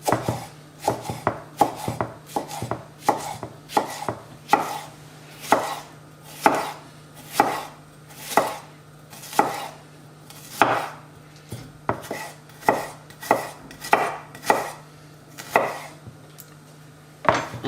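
Spring onions are chopped with a knife on a board in a steady series of close, crisp taps, some spaced and some in quick runs, with no talking.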